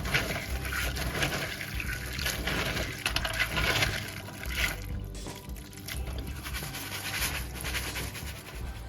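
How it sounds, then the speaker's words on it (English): Three cups of peas being washed for Jamaican stew peas, with a continuous splashing, sloshing water sound close by throughout, steady and moderately loud with no talking. "we're gonna wash this peas"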